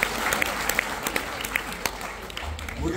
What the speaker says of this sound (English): A big round of applause for them, everybody.